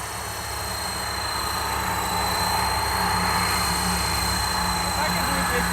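A helicopter in flight gives a steady, loud droning roar with a constant whine on top, unbroken from start to finish as if heard from inside the cabin.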